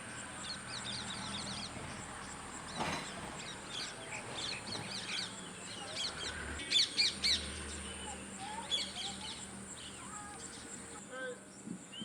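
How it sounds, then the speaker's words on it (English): Crows and other birds call at dusk beside a wide river in the remote village of Somasila, Telangana, with repeated caws and chirps rising over a steady ambient hum, some calls near and clear, others distant. "The birds knew it was time to return to their nest."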